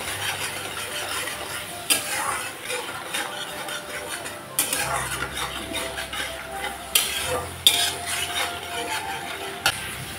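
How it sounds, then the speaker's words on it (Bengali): A spice paste with turmeric and salt is stirred and fried in a pan. A spoon scrapes and clinks against the metal in irregular bursts over a low, steady sizzle, heard close up. "মশলাটাকে ভালো করে কষিয়ে নেব"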